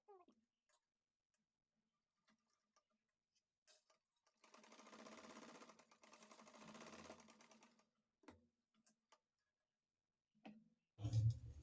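A sewing machine stitches the lining of a blouse during an alteration, running steadily for about three seconds in a rapid mechanical whir, with scattered clicks and handling knocks before and after in an otherwise quiet room.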